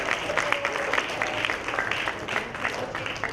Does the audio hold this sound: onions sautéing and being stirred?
no